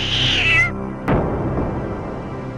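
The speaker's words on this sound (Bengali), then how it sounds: "এক্ষুনি বিড়াল আসছে" A cartoon cat gives a single bright, high meow that trails off, followed by a sharp thump and a low rumbling tail, with no talk.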